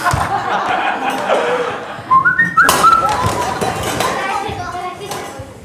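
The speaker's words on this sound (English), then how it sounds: "Somebody's whistling." A few short whistled notes ring out over background voices and laughter during a stage performance of the musical Peter Pan, brief and moderately loud.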